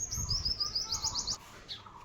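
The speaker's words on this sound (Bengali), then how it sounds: "ওই যে পাখি দেখতে পাচ্ছ এই পাখিগুলো দেখা যাচ্ছে কিনা জানি না ওই পাখিগুলো ওখানে এসে খাওয়া দাওয়া করে যাবে" Small birds chirp in a quick series of high, bright tweets that come to eat food set out near street dogs, fairly faint outdoors with low background rumble, then a final short call after a brief pause.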